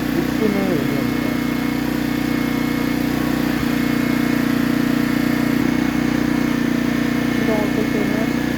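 A Senci SR2200ise inverter generator engine runs at a steady, loud idle close by, a constant mid-pitched drone with no change in rhythm.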